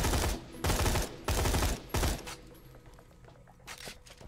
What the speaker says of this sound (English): it fires a 5-shot burst, firing 3 bullets at a time